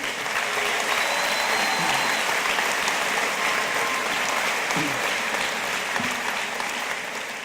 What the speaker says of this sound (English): So how about a round of applause for Michelle and Mary?